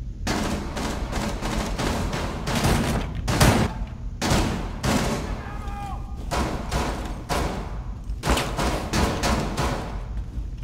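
Sustained gunfire in Rainbow Six Siege on a yacht map, loud repeated shots and heavy bursts packed closely together with thuds, with voices faintly mixed in.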